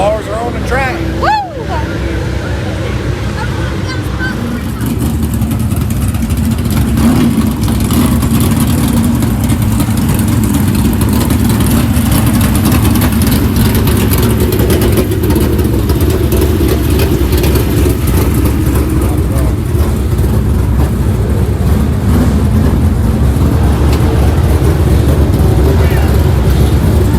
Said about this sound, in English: Cars are on the track.